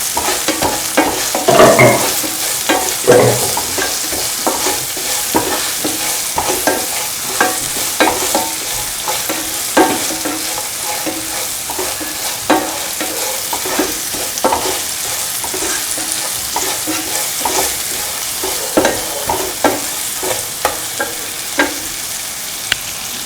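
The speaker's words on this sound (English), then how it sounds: "Keep on mixing and sauteing." Beans being stirred and sautéed in a pan, a loud continuous sizzle broken by frequent scraping and stirring clicks at an irregular pace, close up with no talking.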